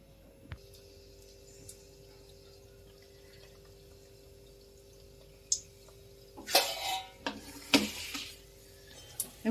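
Cauliflower-and-potato singaras (samosas) go into hot frying oil: after a quiet stretch with a few small ticks, loud bursts of sizzling and splashing break out, one after another, close by with no talking.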